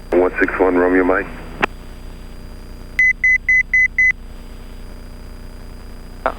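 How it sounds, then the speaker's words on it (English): A small aircraft's cockpit warning sounds on an IFR flight, a run of five evenly spaced, sharp electronic beeps, loud and close, following a burst of radio chatter. "Stop beeping at me."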